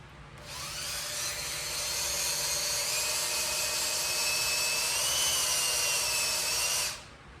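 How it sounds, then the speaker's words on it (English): A handheld power drill runs steadily for about seven seconds in an engine shop working on a big block Mopar engine, its high whine holding a constant pitch before cutting off abruptly near the end. "Let me get an actual drill and try it."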